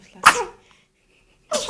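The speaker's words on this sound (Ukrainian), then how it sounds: "Кто такой чихает?" A baby sneezes twice, close and distinct, with a short quiet gap between the two sneezes; a soft adult word is spoken between them.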